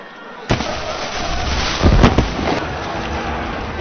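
Fireworks go off during a chaotic zombie film scene, with a sharp burst near the start and a louder cluster of cracking bangs in the middle, all over a constant rumbling, rain-like wash of noise.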